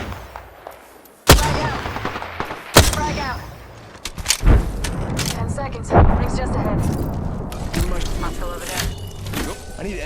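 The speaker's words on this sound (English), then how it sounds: "He's shooting at you while you're holding a sniper." Gunfire in the battle-royale game Apex Legends: several loud, sharp shots ring out at irregular intervals over a busy bed of game noise, with a voice talking underneath.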